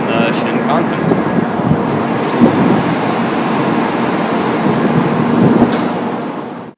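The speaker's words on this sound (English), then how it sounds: "this is me getting on the Shinkansen" A Shinkansen bullet train in Tokyo makes a broad, steady rumbling roar while passengers board, a loud continuous wash of noise with a faint tonal hum underneath, dying away at the end.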